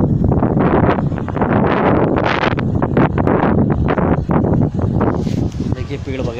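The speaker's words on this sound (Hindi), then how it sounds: "इतनी तेज़ हवा चल रही है बर्फ़ जैसी" Strong, icy cold wind gusting through swaying trees after evening rain, loud buffeting wind noise and rustling throughout, with someone talking over it.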